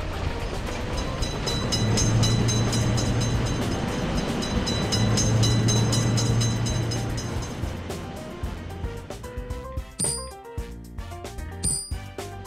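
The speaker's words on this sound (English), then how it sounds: "Attention, train is coming." Railroad crossing simulator game sounds: a train rumbling and clattering as it nears the crossing, followed near the end by sparse bright chimes and bell-like tones.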